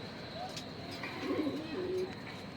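Racing pigeons, a red checker cock and a white grizzle hen, coo softly in a loft. The low warbling calls come in a few short phrases over a faint background hum.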